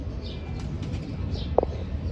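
A pigeon flaps its wings in a short flurry, followed by a soft coo and a brief sharp note, close by against a low background hum; no one speaks.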